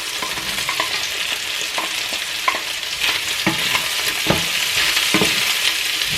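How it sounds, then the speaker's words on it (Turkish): Chicken with onions sizzles steadily in a hot pan, with intermittent scraping and stirring clicks over the constant crackle; no voices. "Tavuğu kızartıyorum."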